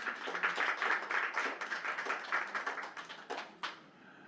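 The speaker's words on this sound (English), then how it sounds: "let's give ourselves a clap." A room of audience members claps for themselves after a set of verbal presentations on water scarcity, a dense burst of applause that holds steady, then thins out and fades over about four seconds.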